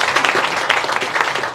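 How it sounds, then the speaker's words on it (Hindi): Audience at a school parent-teacher meeting claps for a teacher, a dense burst of applause that stays steady and loud from start to finish. "मैम के लिए एक तालियां जरूर बता दीजिए।"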